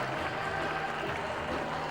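Cricket crowd at a one-day international between West Indies and Zimbabwe at Canterbury applauding a powerful Chris Gayle shot, a steady wash of clapping and crowd noise held at an even level throughout.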